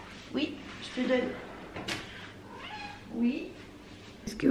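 A pet cat meows several times in a kitchen, short close calls spaced a second or two apart, with faint clatter of utensils or cupboards between them.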